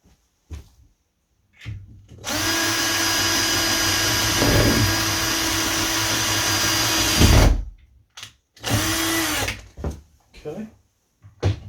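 A power drill bores pilot holes for a door handle, two bursts of loud, close whirring, the first about five seconds long and the second brief, with short knocks and handling clatter in between.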